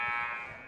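A sustained electronic buzzer sounds loud and steady for under a second at the end of the first half of a women's college basketball game, Brevard vs. Methodist, tapering slightly as it holds.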